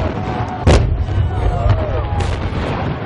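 Daytime fireworks go off with one sharp, loud burst near the start, followed by fainter crackles and pops over a steady outdoor rumble, with voices nearby.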